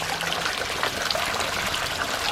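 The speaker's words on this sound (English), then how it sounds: "the trickle of water." Water trickles continuously in a tropical spice garden, a close, bright, steady babble with small splashy flickers and no voices.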